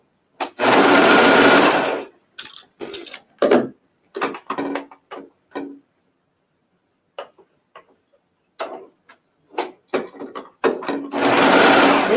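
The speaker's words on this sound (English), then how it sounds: "if you put pins in something and you're getting ready to serge, be careful not to stitch over these pins." A serger sewing machine stitching fabric for pajama pants runs in loud, fast whirring bursts at the start and end, with sparse clicks and ticks of handling in the quiet stretch between.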